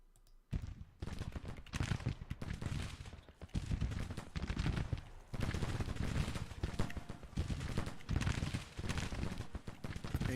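Dense, continuous volleys of massed rifle fire from Civil War brigades exchanging shots at medium and close range in the strategy game Grand Tactician, crackling steadily for several seconds with a few brief lulls, with speech faintly mixed in.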